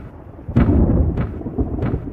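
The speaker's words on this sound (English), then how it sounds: "There was thunder and lightning, and the rain poured down in torrents." Cartoon storm thunder rumbles loud and close, with deep rolling booms and a few sharp cracks spaced through, a steady rain-like wash beneath.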